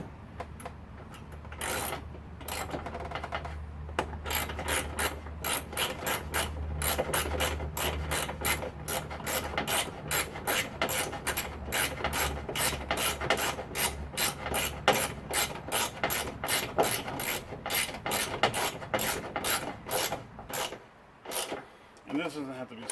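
Socket wrench ratchet tightening headlight assembly bolts on a Nissan Pathfinder or Infiniti QX4: long runs of rapid, close clicking in bursts, slowing into spaced clicks near the end, with speech over parts of it.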